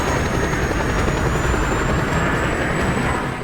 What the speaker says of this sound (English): Maybe I'm just hearing that plane.